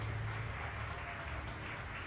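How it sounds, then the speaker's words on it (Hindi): Loud, sustained audience applause fills a Shiv Mahapuran katha, a Hindu religious discourse gathering, as a steady wash of clapping holds for about two seconds with no voices over it. "एक बार आपके लिए भी जोरदार ताली बजाकर साधुवाद।"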